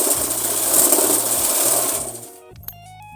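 Sewing machine stitching a folded fabric hem on a plazo, a fast steady mechanical whirr with rhythmic needle chatter for about two seconds, then winding down to a stop with a small click.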